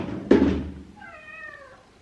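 A house cat that wants to go out gives one short, close meow after a soft knock or thunk, in a quiet room early in the morning.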